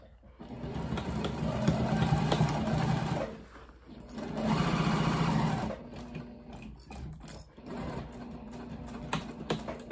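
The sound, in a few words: sewing machine sewing over a zipper on a tote bag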